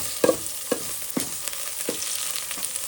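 Puffed rice (mandakki) being stirred and roasted in a pan, a soft continuous dry sizzle broken by several distinct scraping strokes of the spatula at roughly even intervals, close and fairly quiet, with no talking.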